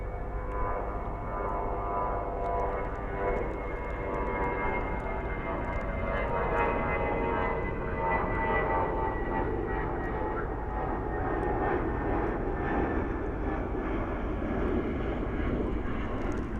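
An American Airlines heavy jet departs at night from Dallas Fort Worth airport on its way to Barcelona. A sustained, moderately loud engine rumble carries from a distance and slowly builds with no break.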